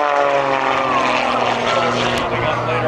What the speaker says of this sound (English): rolling airplane, throwing it into a tumble at the top of that tower